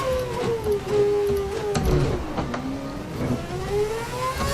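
A Formula One car engine in the F1 2011 racing game revs and whines, pitch sweeping up and down through gear changes over a few seconds, with no talk.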